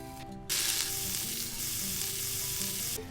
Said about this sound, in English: Olive oil, onion, garlic, and other vegetables is gonna go all together.